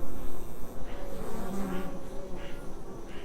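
Honeybees swarm and buzz around an open beehive during a brood inspection, a dense continuous drone close by with wavering pitch and a few louder passes of individual bees.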